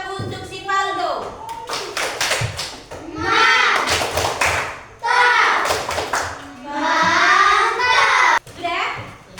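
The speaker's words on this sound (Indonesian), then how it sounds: "Kasih dulu tepuk mantap untuk si Paldo" Schoolchildren in a classroom perform a rhythmic clapping cheer in bursts of quick synchronized claps, mixed with children's voices chanting and talking between the rounds.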